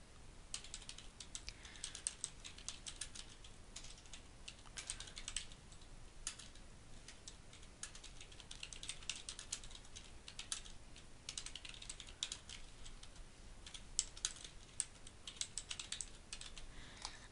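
Someone types on a computer keyboard, with fast, irregular key clicks that run on almost without a break. The tapping is quiet and close, and there is no talk over it.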